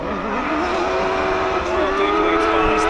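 A loud quad bike engine roars continuously with rising and falling pitch, racing close by at a hill climb drag race in Latvia, under a commentator's voice.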